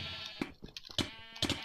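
Sheep in the Sheep Quest video game give several short, quiet bleats in quick succession, rising and fading with no talk over them.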